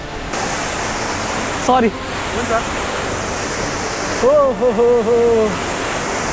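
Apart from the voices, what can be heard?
Namaste Jharna waterfall in East Nepal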